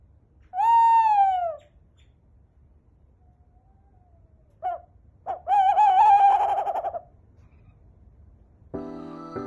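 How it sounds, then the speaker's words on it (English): Cartoon owl sound in a children's alphabet lesson: a loud drawn-out call, a couple of short notes, then a longer wavering hoot-like cry, with a brief musical sting at the end. "O for owl."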